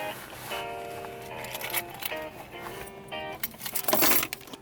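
Car keys for a 1995 Ford Taurus SHO jangling and clinking close by, several bright metallic rattles in bursts over a steady background, with a louder clatter near the end.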